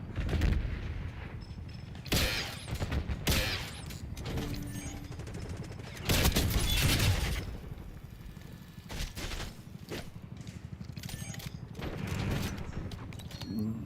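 Bursts of rapid gunfire and explosive shots from a Call of Duty Black Ops 6 hardpoint match, coming in loud clusters separated by quieter stretches, with occasional mechanical clicks.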